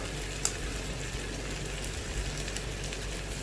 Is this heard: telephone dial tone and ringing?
no